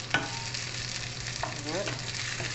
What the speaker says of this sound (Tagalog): Fried onion and garlic